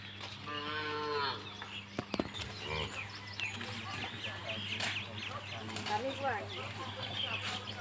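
Cattle at a Goru Bihu celebration in Assam give several drawn-out moos, close and clear, amid farmyard background noise with a few fowl clucks.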